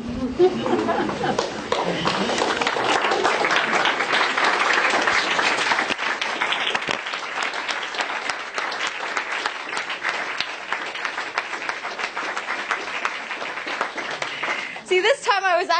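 An audience applauds after a short biology talk, a long, dense, sustained wave of clapping with scattered chatter and light laughter mixed in, tapering near the end as a voice returns.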